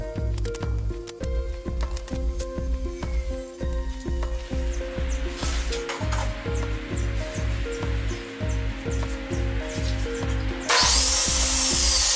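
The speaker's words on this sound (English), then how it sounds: "Because my miter saw takes 4 cuts to get through these posts, here I am squaring them off" Wooden posts being squared off, with a steady run of sharp, rapid clatters and buzzing grinding throughout, close and loud, ending in a bright, hissing burst at the end; nobody speaks.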